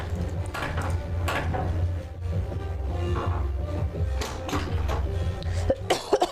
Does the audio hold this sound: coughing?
yes